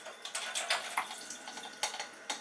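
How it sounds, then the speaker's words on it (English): Water poured through a strainer into a kitchen sink while preparing Lebanese tabouli, a broadband splashing rush with a few sharper spatters, fairly close, no talking. "I'm just going to pour it here in the sink."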